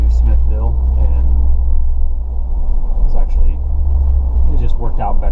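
A car rushes past at speed on a road near Austin, a loud, steady low rumble lasting throughout with a slight swell, while people talk over it.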